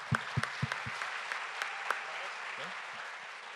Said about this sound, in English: I just want to do a round of applause for all the people in the back.